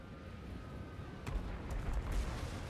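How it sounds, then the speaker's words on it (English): Mortars firing in the Total War: Warhammer 3 battle game, a few dull, distant booms over a steady low rumble of battlefield noise. "Are the mortars still shooting?"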